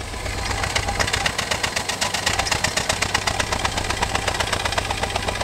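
A car engine idles roughly with a misfire after an ignition coil replacement, recorded near the exhaust; a steady, loud, uneven chugging pulse runs throughout with no talking.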